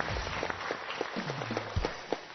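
Studio audience applause welcoming two guests onto a Chinese television health talk show, a steady, moderately quiet wash of clapping that fills the whole moment with no speech over it.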